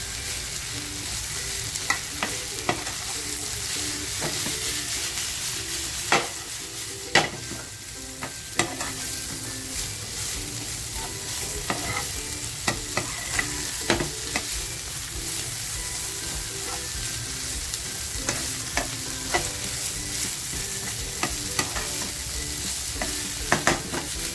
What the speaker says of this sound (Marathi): आणि आता हे छान असं मिक्स करून घेणार आहे